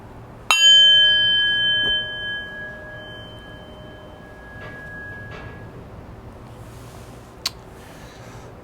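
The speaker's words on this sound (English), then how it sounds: "in just a moment, I will ring the bell, ending our first round" A meditation bell is struck once to close a round of sitting meditation, a sharp clear strike followed by a long ringing tone that fades slowly into a quiet room, with a faint tap later.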